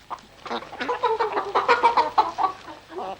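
Several village chickens cluck in quick, irregular bursts, close and fairly loud, with overlapping calls and no talk.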